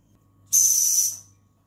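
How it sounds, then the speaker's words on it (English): A steam engine's whistle sounds as built-up steam pressure vents, one steady high-pitched tone with breathy hiss lasting about three-quarters of a second, loud and close, over a low background hum. "When you hear the whistle sound, that shows that the steam is strong enough to drive the engine."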